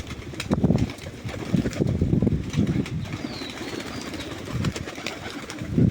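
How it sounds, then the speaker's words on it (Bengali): Pigeons leave their loft one by one on a cloudy, windy day, with bursts of wing flapping and soft cooing close by over a low rush of wind. "কবুতরগুলি এক এক করে সব বেরিয়ে যাচ্ছে"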